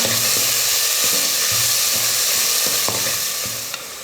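Chopped onions and curry leaves sautéing in a pan for a banana stem kootu, a loud close steady sizzle broken by repeated scraping strokes of a spoon stirring, with no talking.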